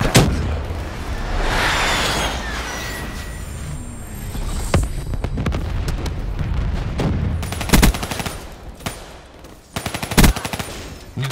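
Friendly weapon strike in Black Ops 3 multiplayer: loud heavy gunfire and booming blasts rolling through the battlefield, with sharp bursts standing out near the end.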